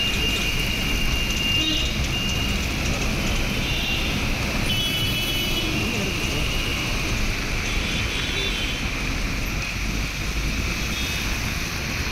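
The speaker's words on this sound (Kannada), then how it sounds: "ಇನ್ನು ನಗರದಲ್ಲಿ ಮಳೆಯಾಗ್ತಾ ಇದೆ" Heavy rain pours steadily in a city in Karnataka, India, with a dense, hissing wash over surfaces, loud and continuous throughout, with no voices.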